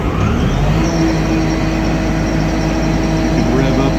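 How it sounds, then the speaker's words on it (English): A Ditch Witch HX75 hydro excavator's motor runs in a loud, steady, continuous drone with a deep rumbling low end, holding an even level throughout. "And now we can start the motor."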